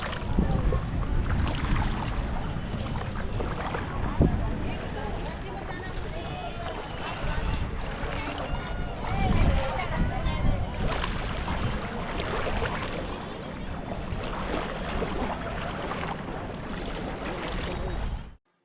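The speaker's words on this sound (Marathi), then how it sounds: "आता आम्ही पाण्यातून चाललो आहे सगळेजण" A group of people wading through shallow, mossy river water at a Gomti river crossing near Dwarka, with steady splashing and sloshing throughout, fairly close and continuous, with occasional voices and wind noise.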